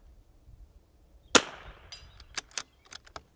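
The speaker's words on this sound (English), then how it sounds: "Let's see if we can shoot a little better group, getting the seasoned in." A precision rimfire rifle fires at a target: one sharp, close crack followed by several smaller quick snaps and clicks from handling, set against a quiet outdoor background.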